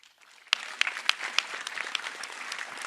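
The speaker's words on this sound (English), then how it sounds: "So give yourself a round of applause." An audience at a fire rescue academy graduation breaks into sustained applause with sharp individual claps standing out over a dense, steady patter, moderately close and fairly loud.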